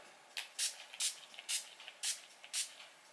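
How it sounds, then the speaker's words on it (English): Several short hissing spritzes from a makeup setting spray bottle, about six quick bursts at a fairly even pace, close and clear against quiet. "Time to lock it in with the spray."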